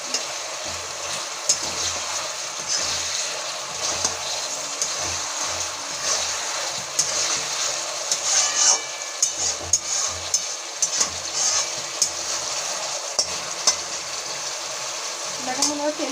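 Sea fish for a Bengali village-style jhal fry and get stirred in hot oil, a soft continuous sizzle with occasional scraping clinks of a spatula, under intermittent talk.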